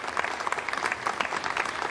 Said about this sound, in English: Now we have some applause there